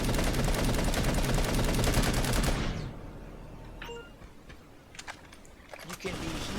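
Rapid automatic gunfire from the Planetside video game rattles loud and dense for about two and a half seconds, then cuts off, leaving quieter scattered clicks and small effects.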